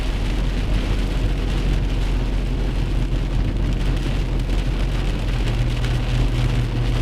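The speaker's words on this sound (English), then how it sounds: "it looks like it's just heavy rain now" Heavy rain pours steadily and loudly on a surface, a dense continuous roar with a low rumble underneath and no voices.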